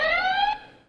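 A shopping mall's thermal camera sounds a temperature alarm, a single loud electronic beep-tone with steady harmonics that holds for about half a second and then fades out, with no voices.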